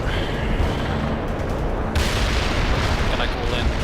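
Heavy artillery fire in the war strategy game World in Conflict rumbles as a dense, continuous roar of booms and blasts, loud and close, with no clear pauses between impacts.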